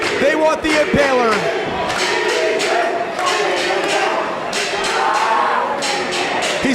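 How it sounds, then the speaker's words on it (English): A wrestling crowd at an indie show in Hialeah, Florida, during Gangrel vs. Eddie Taurus, keeps up a steady roar of cheering and chanting with scattered claps, while a commentator's voice runs over it throughout. "And the crowd, they want the Impaler."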